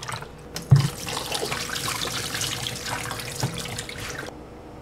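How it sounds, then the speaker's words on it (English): Homegrown plant matter rinsed under a running kitchen tap, a steady broadband rush of water splashing into a sink for several seconds, close and fairly loud, with one sharper splash near the start and the flow cutting off at the end. "I do see the dust and different debris and such that are on some of the plant matter, so I choose to rinse mine off"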